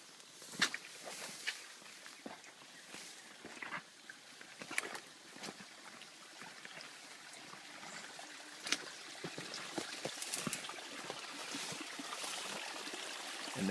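A live spring trickles into a very small creek in a wooded tract with watercress, a faint steady flow broken by scattered crunching steps.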